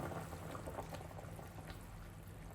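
Rose jam syrup with a spoonful of lemon juice boils in a pot, giving soft, quiet bubbling and popping for a few seconds, faint and close, with no talking.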